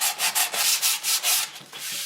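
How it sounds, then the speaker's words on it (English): Rapid, rhythmic scratching of sandpaper rubbed back and forth over white-painted wood, close and loud, in about a dozen quick strokes. "So I'm just sanding it a little bit down"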